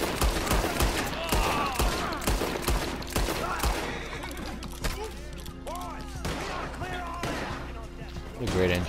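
Gunfire from a Wild West video game shootout, a dense run of sharp shots and bursts in the first half easing into scattered pops, heard beneath excited overlapping voices and game sounds.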